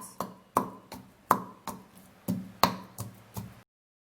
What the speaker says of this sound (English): put the garlic in. And then smash it